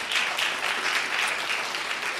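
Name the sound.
audience applause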